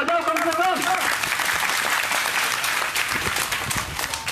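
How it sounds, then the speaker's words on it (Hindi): Audience clapping at a religious discourse, a steady burst of applause from a crowd lasting several seconds, with a voice speaking briefly at the start. "अरे आप लोग महत्व पक्ष ताली बजाओ कम से कम"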